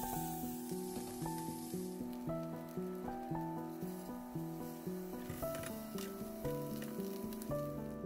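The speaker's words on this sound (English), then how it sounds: "Add 2 tablespoons of butter to a hot pan and sear the scallops." Scallops searing in two tablespoons of butter in a hot pan give a steady sizzle that sits beneath louder melodic music running throughout.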